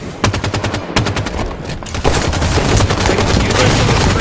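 Rapid automatic gunfire from the video game Halo 5, loud and dense bursts of repeated shots that run almost continuously, growing heavier after a short lull, with no talking over it.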